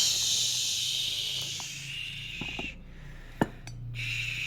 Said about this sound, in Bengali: আলুটা ভালো করে ভাজো